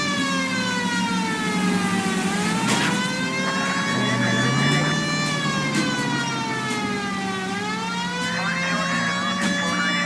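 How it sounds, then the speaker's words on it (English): A wailing police car siren in the video game LA Noire sweeps up and down continuously and loudly over low engine rumble. "Turn on the siren and pull her over."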